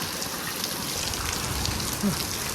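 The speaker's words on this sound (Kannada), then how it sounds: "ಮಳೆ ನೋಡ್ರಿ ಈಗ ಫುಲ್ ಎಷ್ಟು ಬರ್ಲತ್ತದ ನೋಡ್ರಿ" Heavy rain falls steadily in a village, a dense, even wash of droplets with no pauses across the whole stretch.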